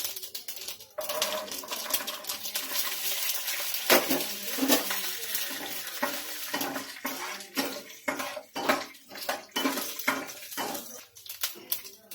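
Peanuts tossed into a hot pan of oil with cumin while cooking poha, giving a steady loud sizzle and frying crackle with clinks and scraping of a spoon against the pan.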